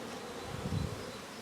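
Honey bees buzz at a beehive during a spring hive inspection, a dense, steady, close hum that swells briefly in the middle.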